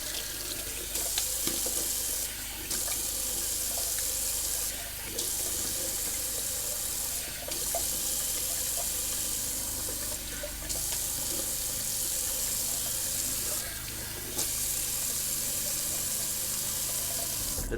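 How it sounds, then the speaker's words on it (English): Cold water runs steadily from a tap for a rinse, a constant hiss and splash lasting the whole stretch, with a few brief dips where the flow is interrupted. "Alright, I'm going to do a little cold water rinse."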